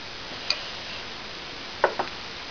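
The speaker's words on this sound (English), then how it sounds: "I'm going to put it on the flat horn and I'm going to tap it" Light metallic taps on a silver ring base resting on a flat mandrel horn: one small tick near the start, then two quick sharp taps a moment later, over quiet background hiss.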